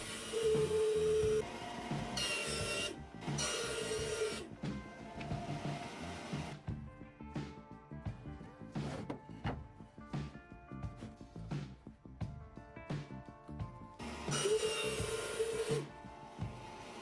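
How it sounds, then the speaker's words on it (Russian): A jigsaw cuts through plywood in bursts of loud, buzzing rasping. Quieter stretches of scraping and handling sit between the cuts, all heard up close. "тут можно использовать и лобзик"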